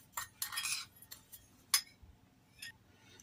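A spoon clinks and scrapes in a bowl while mixing spices such as oregano for a shawarma rice marinade, in a few sparse, close taps and rattles over a quiet background.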